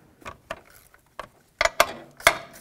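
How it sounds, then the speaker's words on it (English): Ratchet with a 10 mm socket working a bolt loose on a 2006-2011 Honda Civic during a clutch replacement, a few sharp separate clicks and clacks heard close up with no talking. "with a 10 millimeter, remove this bolt here"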